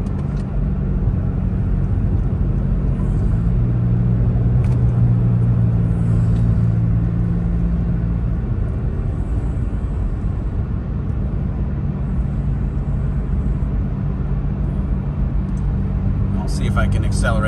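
A 2018 Toyota Tacoma with automatic transmission, 5.29 gears and 32-inch tires, driving at speed: a steady loud engine and road drone with low rumble throughout, heard from inside the cab.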